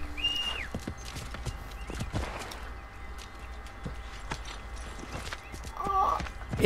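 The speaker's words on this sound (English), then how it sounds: "Oh, horse!" Horse hooves clip-clop along amid background noise in Assassin's Creed 3, with a horse neighing near the start and again near the end.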